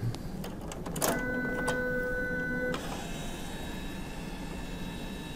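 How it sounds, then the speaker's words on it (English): An Entrust Datacard CR805/CR825/CE875 card printer being locked after cardstock is reloaded gives a short mechanical whir with a steady electronic tone for about two seconds, then stops, leaving a faint quiet hum behind. "we can lock the printer."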